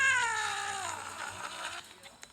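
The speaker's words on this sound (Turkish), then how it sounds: "Kırmızı kapıdan girdi kedi." A cat in the Roblox keys game gives a single drawn-out meow that slides downward in pitch and fades away, heard alone and fairly close.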